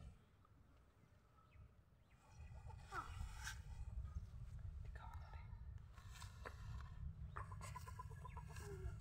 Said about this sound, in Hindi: और ये कुछ मुर्गियाँ हमने खरीद कर लाए हैं